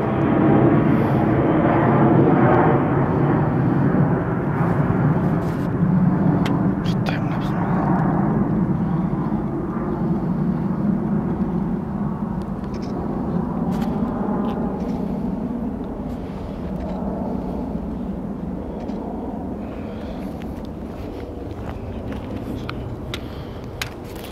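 A fixed-wing airplane passes overhead at an old bunker site in Kristiansand, a loud, broad engine roar that is strongest at first and slowly fades as it moves away, with no talk over it.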